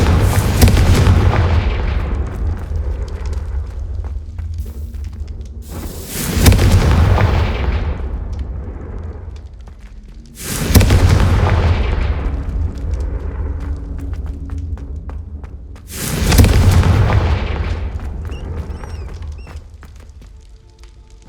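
Confringo fire spell blasts from the Hogwarts Legacy video game during a boss fight against an ancient titan: four heavy booming explosions spaced a few seconds apart, each with a sharp onset and a rumbling decay over a low roar.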